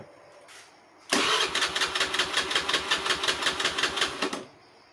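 A Honda Scoopy-i scooter's electric starter cranks for about three seconds in a loud, steady, rapid chugging rhythm, and the engine fails to catch before the cranking stops abruptly.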